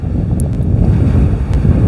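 Surf breaking along the Pembrokeshire coast, a steady roar of rolling waves under heavy gusting wind buffeting the microphone, loud and continuous with no pauses.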